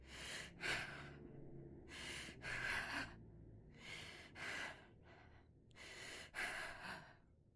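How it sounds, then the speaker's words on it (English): Patient breathing in the game Quarantine Zone: several sharp, close inhale-exhale bursts, quiet and alone, repeating in a steady rhythm with short pauses between breaths. "Let me hear your breathing today."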